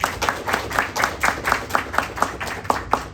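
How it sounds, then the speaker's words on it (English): A class claps for itself in a round of applause, the claps falling in a quick, fairly regular rhythm that stays moderately loud and close for the whole stretch. "I'd like for you guys to give yourself a round of applause"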